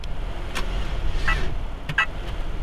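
An Opel car's engine works hard while drifting, a steady rumbling drone with a few sharper bursts rising above it, close and fairly loud throughout.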